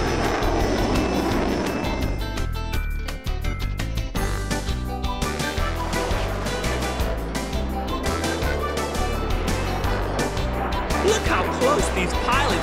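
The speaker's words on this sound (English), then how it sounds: "Whoa, he's going straight up into the sky!" A Navy Blue Angels F/A-18 Hornet jet climbs straight up into the sky, its engine roar rising in a loud, sustained rush mixed under music.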